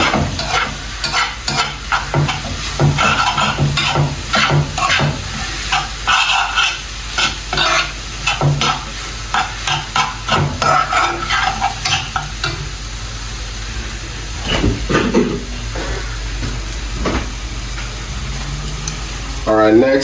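Okro soup ingredients sizzle and fry on a gas cooker while a spoon stirs and scrapes the pot in repeated close strokes over a continuous frying hiss.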